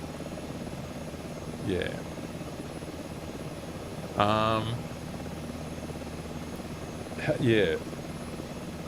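A Mi-2 helicopter engine and rotor from the MSFS 2024 flight simulator drone steadily in the background, while someone speaks briefly over the hum.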